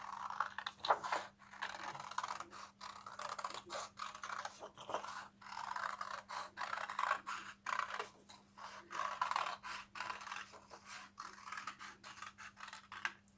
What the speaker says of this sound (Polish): Wycinam sobie koło.